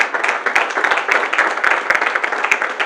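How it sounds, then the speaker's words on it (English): An audience at a Lagos architects' forum claps steadily for an honoured architect, a close, even patter of many hands with no voices over it. "Round of applause for him, please."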